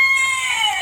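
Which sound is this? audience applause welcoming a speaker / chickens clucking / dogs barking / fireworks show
chickens clucking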